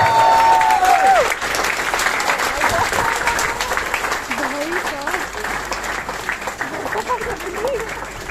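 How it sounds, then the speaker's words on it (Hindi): A seminar crowd at a hybrid centre launch in Faridabad applauds loudly to welcome a speaker, a dense, sustained roar of clapping with faint voices and cheers mixed in throughout. "सभी लोगों से प्लीज एक बार जोर से तालियां बजा दो अमन भैया के लिए।"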